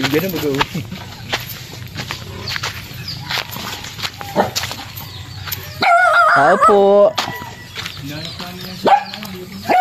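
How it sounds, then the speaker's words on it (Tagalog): Dogs bark in short bursts at an outdoor spot where roosters also crow and footsteps pass. People talk loudly over much of it. "Kasi nandiyan yung mga aso"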